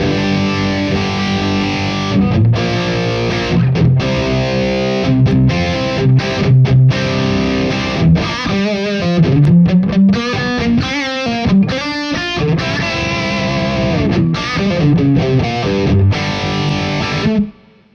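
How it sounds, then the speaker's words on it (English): An electric guitar plays through an Abasi Pathos distortion pedal, giving a heavy, saturated tone with chugging palm-muted riffs and sustained chords that run steadily and loudly, then cut off abruptly at the end. "Let's try another distortion pedal. This is the Pathos from Abasi."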